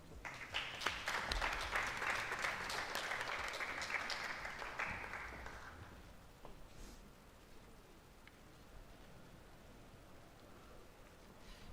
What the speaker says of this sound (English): can we please get another big round of applause?